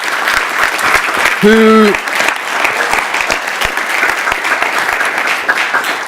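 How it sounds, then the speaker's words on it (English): Loud, dense audience applause for the speakers at a conference on autonomous vehicles and the city, steady throughout, with a short shout or whoop rising above the clapping. "I want to invite you to give a round of applause to all our speakers today"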